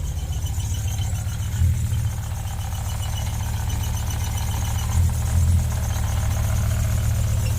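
A car engine with a misfire runs steadily, a low uneven rumble with lumpy pulses and a couple of heavier surges as it bogs down, close and fairly loud with no talk.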